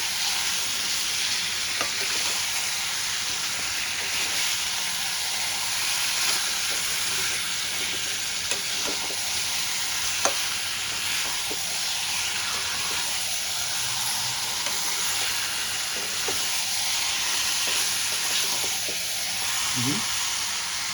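Chicken curry with raisins fries in a pan with a long, even hiss of sizzling oil, punctuated by scattered light scrapes and taps as it is stirred.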